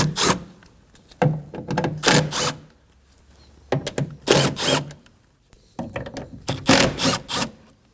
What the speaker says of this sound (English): Using an 8mm socket, go ahead and remove the 4 bolts around it.